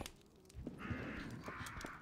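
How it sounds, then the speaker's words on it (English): Crows caw a few times at moderate distance in the video game Resident Evil Outbreak, harsh repeated calls over a quiet background. "Oh, I hear crows."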